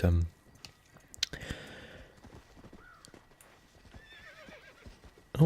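A horse whinnies and hooves clip-clop in the video game Red Dead Redemption, with faint clicking in the background and a voice speaking briefly at the start and end.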